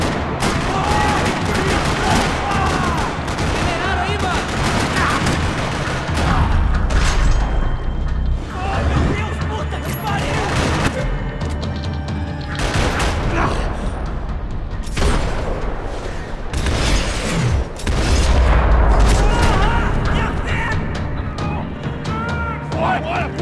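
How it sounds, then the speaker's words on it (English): Gunfire crackles through a parking lot in the video game Max Payne 3: dense, loud bursts and rattling volleys with booming impacts, layered over a busy soundtrack for over twenty seconds, with occasional voices mixed in. "Another parking lot rattling with gunfire."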